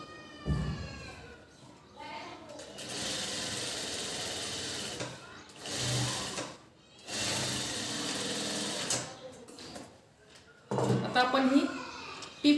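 A sewing machine stitches a seam to narrow a blouse neckline, running in several close bursts separated by pauses, with someone talking between and over the stitching.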